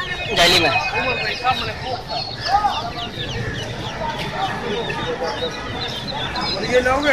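Duckling chicks peep in a net bag at a bird market, a dense chorus of thin high calls under busy talk and crowd noise, with a loud squawk near the start.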